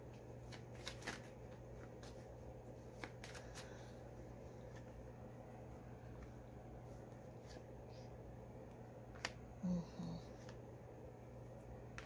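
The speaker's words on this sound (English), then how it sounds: "Cards are coming out." Tarot cards shuffled for a reading, soft close riffling and slapping of cards in short bursts over a quiet room hum.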